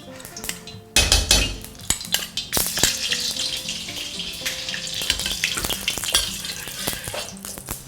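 Rapeseed oil and lard heating in a hot wok, opening with faint clatter before a loud hiss erupts and settles into a steady, crackling sizzle peppered with sharp pops.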